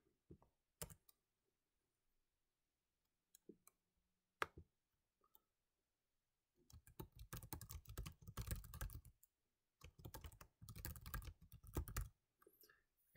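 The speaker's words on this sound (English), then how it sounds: "as I'm typing along" Typing on a computer keyboard while entering a query into Power BI: two long, dense bursts of rapid key clicks, close and fairly quiet, preceded by a few isolated taps and stretches of near silence.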